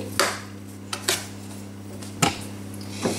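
A metal spoon taps and scrapes against a pan while spreading an almond mixture for kalb el louz, with four or five short clinks at irregular intervals over a steady low hum.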